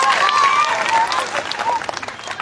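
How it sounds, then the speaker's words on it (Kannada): An audience claps loudly and steadily at a community gathering, dense applause filling the whole moment with some faint voices mixed in. "ಆ ಚಾನಲ್ ಅವ್ರಿಗೊಮ್ಮೆ ಜೋರಾದ ಚಪ್ಪಾಳೆ ನೀವು ಸಮರ್ಪಣೆ ಮಾಡಿ"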